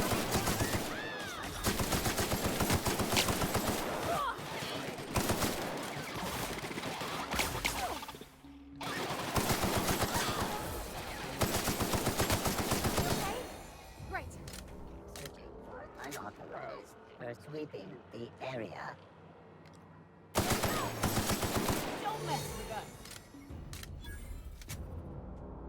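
Gunfire from The Outer Worlds video game: long loud bursts of rapid automatic shots with brief pauses between, then scattered single shots, under frequent talking.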